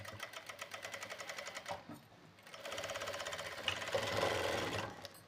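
A sewing machine stitches leftover fabric into hand coverings: a rapid needle clatter runs, pauses briefly, then starts again with a steadier, slightly louder run, fairly quiet and close, no speech.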